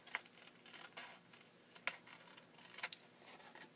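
Scissors snipping along the edge of a paper card during card making, a few quiet separate crisp cuts spread over a few seconds, with no talking.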